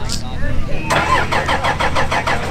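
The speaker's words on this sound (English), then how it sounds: "That big blue tractor just, they just struggling with it." A New Holland tractor engine labours at an outdoor festival, cranking and then chugging in a rough pulsing rhythm close by, with crowd noise and voices around it.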